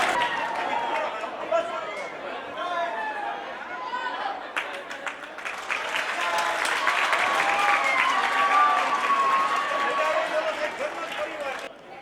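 Sustained clapping from a crowd at a society welcome event, mixed with murmuring voices and chatter, building slightly in the middle and staying fairly close and full before easing at the end.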